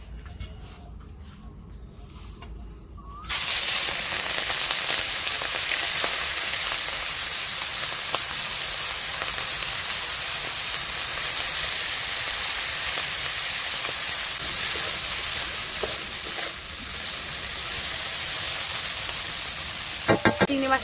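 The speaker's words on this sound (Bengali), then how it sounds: "এবার এই চিংড়ি মাছটা প্রথমে আমি ভেজে নেব।" Prawns hit hot oil in a wok and burst into a loud, sustained sizzle after a quieter opening, the hiss holding steady with stirring scrapes and a few sharp clicks near the end.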